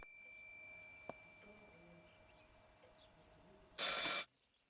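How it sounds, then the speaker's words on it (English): A telephone rings once in the video game Martha is Dead, a short, loud, bright burst near the end after several seconds of quiet room tone with a faint tick. "I should pick up the phone but remain silent."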